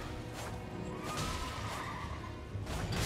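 A horse neighing in the video game Elden Ring, loud whinnying mixed with game combat crashes and whooshes, continuous and close.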